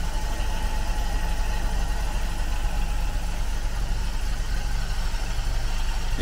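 A 1958 Chevrolet pickup truck engine idles steadily and quietly with a low, smooth, even rumble and no change in pitch, fairly close, with no voices.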